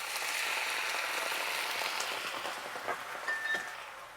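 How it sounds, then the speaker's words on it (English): White wine poured into a hot, caramelized pan for lamb chops hisses into a steady, loud sizzle that fades gradually, with a few sharp spits and a brief clink near the end. "This will deglaze it with a little bit of white wine."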